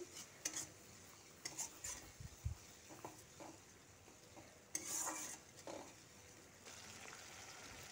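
Spoon stirring and scraping in a pan as chillies and ginger-cumin paste are mixed into tomatoes for a Bengali koi fish curry, with soft sizzling and intermittent clinks of utensils against the pan.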